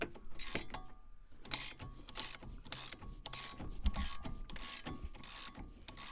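Metal parts being unscrewed on a VW Vento give off a steady run of ratcheting clicks and grinding metallic scrapes, continuous and fairly close, with a faint hum underneath and no talking.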